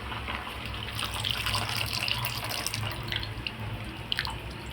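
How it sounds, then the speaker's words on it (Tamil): Tamarind water pours from a container into a cooking pan for a spicy kitchen dish, a close, continuous splashing trickle with small drips and clinks along the way. "அந்த புளி தண்ணி கொஞ்சம் ஊற்றலாம்"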